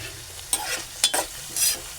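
Onion and tomato sautéing in a pan, a low sizzle broken by three sharp bursts of spatula stirring and scraping against the metal, close by with no one speaking.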